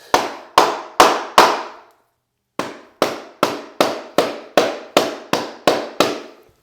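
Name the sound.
hammer tapping laminate flooring into place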